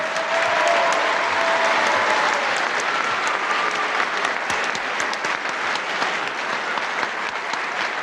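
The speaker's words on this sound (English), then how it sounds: "how about a big round of applause for 2 fine professional wrestlers" Sustained applause from a wrestling crowd saluting two professional wrestlers, Steve Grey and Clive Myers, a dense steady clatter of clapping filling the hall for several seconds, with a faint tone hanging briefly early on.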